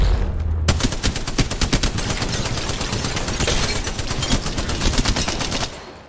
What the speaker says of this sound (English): I'm actually shooting that guy in the fucking feet